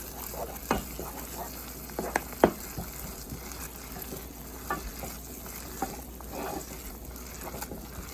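Crushed garlic sauce for a seafood boil being mixed in a pot, with soft scraping stirs and a few sharper utensil knocks against the side over a low steady background.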